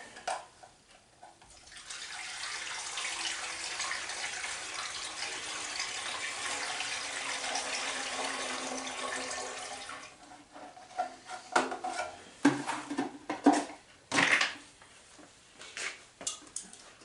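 Liquid poured steadily into a bucket during work on an engine that sat seven years, a broad rushing splash lasting several seconds before tapering off, followed by a few clanks and knocks.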